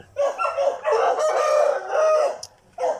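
Backyard mini-farm chickens, including a rooster and hens, cluck and crow in a close, moderately loud call lasting a few seconds, with a brief pause before a final short call.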